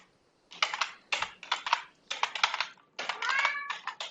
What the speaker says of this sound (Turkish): Bilbo gelir misin artık? Sürekli miyavlayarak videoyu bölüyorsun.